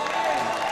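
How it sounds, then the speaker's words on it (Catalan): Brief burst of fans applauding at a water polo Copa del Rei final, dense clapping filling the moment with a commentator talking over it. "aplaudiments dels aficionats"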